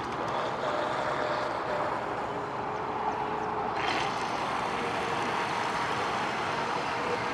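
A DH 7009 RC boat running on a lake makes a continuous high-pitched motor whine, steady and fairly loud throughout, with no talking.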